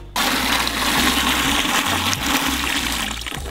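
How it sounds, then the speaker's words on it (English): Clean water gushes into a bucket, filling it about halfway before paint work: a loud, close, continuous rushing splash that starts abruptly and stays strong to the end, with no speech. "I always just fill up a bucket"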